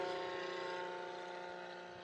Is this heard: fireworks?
no